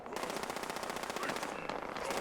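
An enemy fires in Fallout 76: rapid, continuous automatic gunfire rattles at a fairly distant, quiet level with no pauses.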